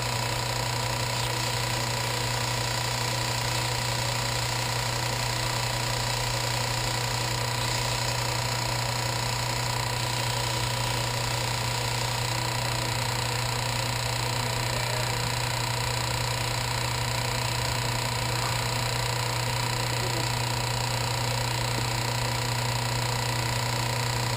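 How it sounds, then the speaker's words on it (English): Small lathe spinning a part while its surfaces are cleaned up with sandpaper during a 4L80E transmission overhaul, a steady mechanical whir with a constant droning hum, even and unbroken for the whole stretch. "I don't have to have a good lathe just to clean up some surfaces with sandpaper"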